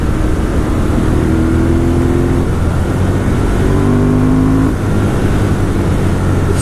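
A 2018 Ducati Monster 1200S engine rumbles loudly up close, revving up and down with a throaty, steady drone throughout.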